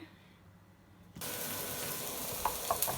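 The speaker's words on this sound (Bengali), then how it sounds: "এখন এই যে ডিমটা ভাজা আসি" Beaten eggs with salt hit a hot pan: quiet room tone gives way to a sudden loud, steady sizzle that carries on to the end, with a few small pops near the close.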